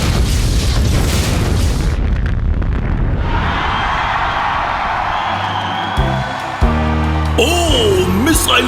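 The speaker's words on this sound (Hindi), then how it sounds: "ओह, मिसाइल ने सीधा टाइगर की छोटी तोप पर वार किया।" A cartoon missile strikes a small cannon in a Hindi animated car race, a loud sustained boom and roar that fades into lighter effects and music.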